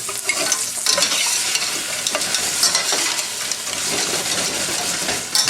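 Lobster Cantonese sizzles loudly in a hot pan, a dense continuous crackle and spit with occasional clinks of utensils, close and steady throughout.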